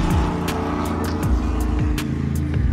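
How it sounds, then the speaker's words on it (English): Race cars at Daytona International Speedway in Florida run laps near the yellow out-of-bounds line. Their engines make a steady, loud drone, and several cars whoosh past one after another. "The cars that you see down next to that yellow out of bounds line, coming up behind us as we speak, completing their 3 laps"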